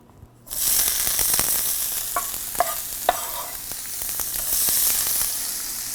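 Vegetables, including yellow and red peppers, fry in olive oil in a pan with a steady loud sizzle, broken by a few clinks and scrapes of stirring.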